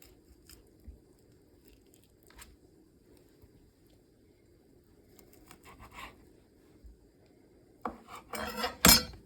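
A knife slicing a raw prawn in half on a board while making spring rolls: soft scraping taps and low handling noise, ending in a sharper, louder crunching cut close by.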